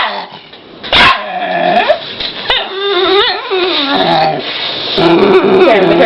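A hostile dog growls, snarls and barks up close, with a sharp bark near the start followed by a stretch of deep, rising and falling growls and whining yelps, loud and alone.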